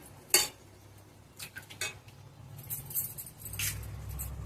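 Eggs cracked into a pan of egg curry, with a few sharp taps and light clinks of shell and utensil against cookware, then soft stirring and scraping in a quiet kitchen.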